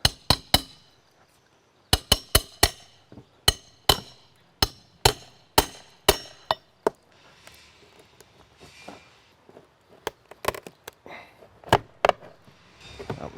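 Soggy, water-damaged window trim is pried and knocked loose, producing a series of sharp, close taps and cracking knocks in uneven bursts, with short quiet gaps between groups.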